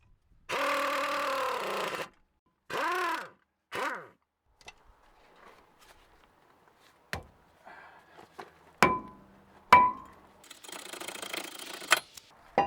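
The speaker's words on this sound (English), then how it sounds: "You can even drive the bolt in with the air gun." A pneumatic air impact gun with a chrome socket drives in a front brake bolt on a Chevy heavy-duty van or pickup: three short whirring, rattling bursts, followed by scattered metallic clicks and clatter in a quiet workshop.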